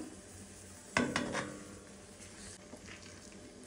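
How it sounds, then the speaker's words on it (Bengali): Olive pickle being stirred with ground spices in a hot pan, a sharp scrape and clatter of the spoon followed by a soft, steady sizzle, close and without talk. "এখন হচ্ছে এগুলো সব ভালো করে মিশিয়ে নিব"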